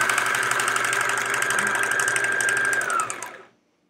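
Home sewing machine running at full speed while piecing quilt scraps: a steady, loud, whirring motor drone with a fast rattling stitch rhythm, held evenly for about three seconds before winding down and stopping into silence.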